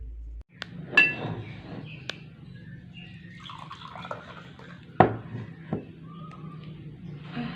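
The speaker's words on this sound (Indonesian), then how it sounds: "Sedang menuangkan air di gelas yang hendak diminumnya." Water poured into a drinking glass in a quiet isolation room, heard as a few faint clinks and light splashy trickles over low background hum, with no talking.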